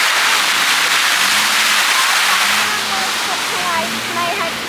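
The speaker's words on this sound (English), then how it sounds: "Cool little waterfall section there." A small waterfall pours steadily beside a boardwalk, a dense rushing hiss filling the whole clip at close range, while voices talk faintly beneath it.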